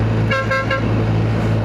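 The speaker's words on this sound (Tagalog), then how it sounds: "Sarap ng busina, bago eh." A new horn on a BMW 1300GS motorcycle gives three short honks in quick succession over a steady engine rumble.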